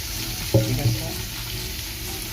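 Chili, onion and garlic drop into hot oil: two quick splashy bursts of sizzle over a steady, moderate frying hiss.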